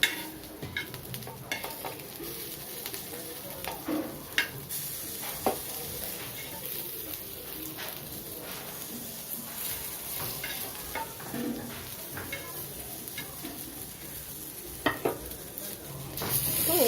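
Fish frying in oil in a pan after being flipped, a steady low sizzle with scattered light scrapes and clinks, close and fairly quiet, no voices.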